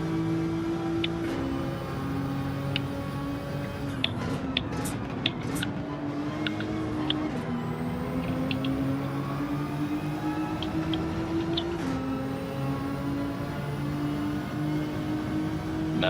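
Racing car engines in Gran Turismo 7, including a Subaru WRX and an Alfa Romeo 155, drone and rev continuously with rising and falling pitch, with brief clicks over a steady mid-level engine roar.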